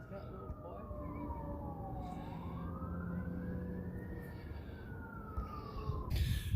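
An emergency vehicle siren wails in the distance near Chained Rock on Pine Mountain at Pineville, Kentucky, slowly rising and falling across several seconds over outdoor background noise.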